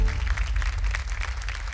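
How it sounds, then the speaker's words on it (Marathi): An audience on a Marathi TV show claps in a short, dense burst of applause, fairly loud and close, with no voices standing out. "एकदा जोरदार टाळ्या होऊन जाऊ देत."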